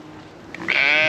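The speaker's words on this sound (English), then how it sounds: "You've got some sheep." Sheep and goats in a wildlife park enclosure bleat together, loud and close, with a strong sustained call rising in the second half over quieter background bleats.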